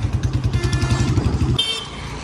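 Motorcycle ridden along a dusty rural road behind a tractor, its engine thumping in a fast, even pulse up close before cutting away abruptly.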